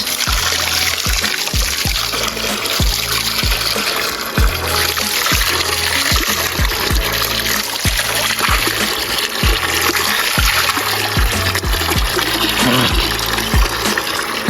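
Water gushes and splashes continuously close by, with rhythmic thumps underneath, like water being drawn from a well and poured out.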